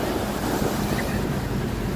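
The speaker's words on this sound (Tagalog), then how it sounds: "Napakalalaki ng alon." Large ocean waves break steadily on the beach at San Juan, La Union, a loud, continuous roar of surf mixed with wind noise on the microphone.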